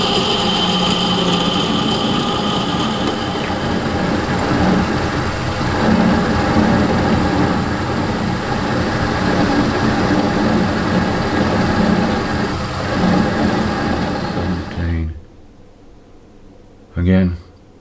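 A BMW motorcycle engine idles at about 500 RPM, a close, loud, steady drone with a rough low pulse that holds for around fifteen seconds, then cuts out, leaving near quiet and one brief thump.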